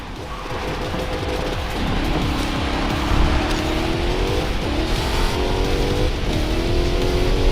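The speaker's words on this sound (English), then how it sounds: "Hellcat sounds like I'm about to blow my engine." A Dodge Challenger Hellcat races in the mobile game Racing Master, its engine droning loud and steady with a rising, strained pitch, accompanied by continuous road and tire noise.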